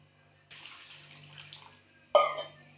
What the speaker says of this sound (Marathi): त्या साईडला आई पाण्याने धुवून घेत आहेत